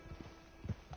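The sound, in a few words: horse walking, hooves clip-clopping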